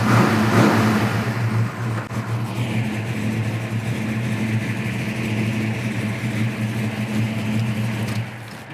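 A 1969 Camaro RS with a blacked-out engine revs loudly and close by, a throaty rev rising at the start, then holding a steady rumbling idle before dropping off at the end.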